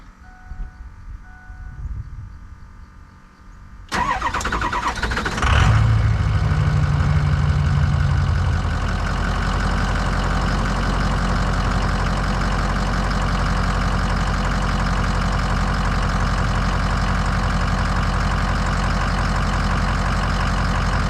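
A Ford 6.0 Powerstroke diesel, fitted with new glow plugs, cranks briefly, fires up loudly and settles into a steady, rough, knocking idle that runs on alone and close by.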